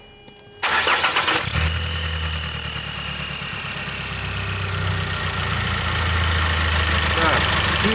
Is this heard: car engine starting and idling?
yes